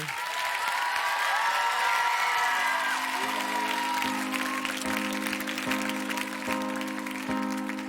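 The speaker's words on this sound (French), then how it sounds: "Merci de l'applaudir." A TV studio audience applauds loudly and steadily, with scattered whoops, as a music show's backing track fades in beneath the clapping.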